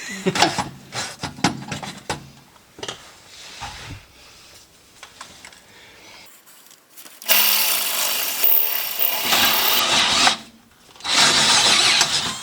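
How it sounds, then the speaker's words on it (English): A small drill bit boring a pilot hole during an Air Lift suspension install on a Honda Pilot, heard as loud sustained whirring bursts after scattered clicks and handling noises. "I'm using a smaller bit first to start a pilot hole, and we'll go with a bigger one"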